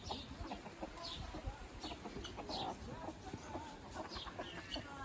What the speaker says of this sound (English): Hey, chooks, enjoying your food?